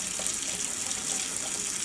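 Tap water runs steadily into a sink, splashing over hands and arms during a surgical scrub with chlorhexidine, a close, even hiss that stays constant with no talk.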